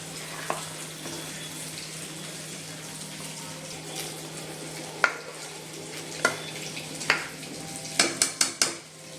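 A ladle stirs fish curry made with coconut milk in a pan over a steady low sizzle, with a few sharp metallic scrapes and clinks against the pan coming faster toward the end.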